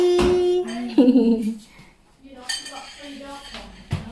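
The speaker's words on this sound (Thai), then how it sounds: "อันนี้เจ้าบ้านนะคะ เจ้าบ้านล้างจาน" Dishes being washed by a host at a home meal in Thailand, with scattered clinks and knocks of plates and cutlery near the mic. Someone talks over the clatter.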